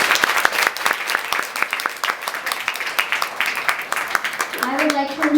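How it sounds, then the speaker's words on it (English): Audience applause fills a hall at a Chicago iftar gathering after a speech, dense steady clapping throughout, with a voice briefly speaking near the end. "can we give him another round of applause, please?"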